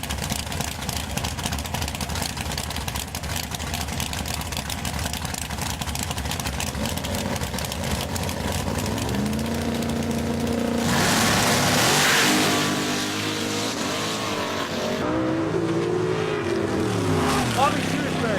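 Drag racing cars at a 2010 Big Block Ford Bash idling with a rough rumble, then one revs and launches down the strip in a rising roar, with an announcer talking throughout.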